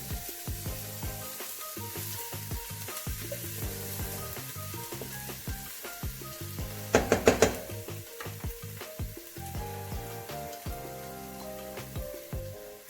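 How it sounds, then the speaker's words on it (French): Shallots and garlic sautéing in olive oil in a pan, a steady sizzle with stirring clatter throughout and a brief burst of louder crackling in the middle. "On va commencer par revenir les échalotes. On va rajouter les 3 gousses d'ail."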